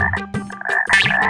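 A frog croaks close and loud in a quick run of rasping, pulsing calls over a little more than a second, with no talking.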